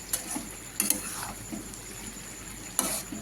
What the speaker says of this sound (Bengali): এবার আস্তে আস্তে এইভাবে ভাজা হবে